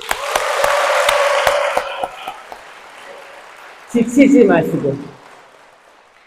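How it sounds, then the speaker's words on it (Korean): Audience applause in a Catholic church, Indeogwon parish: brisk clapping with sharp individual claps fades over about two seconds, followed by a low lull, then a voice speaking briefly. "가톨릭 스튜디오 박수!"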